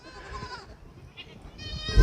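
Goats on a farm in Si That district, Udon Thani, Thailand let out two or three wavering bleats close by, separated by quieter rustling.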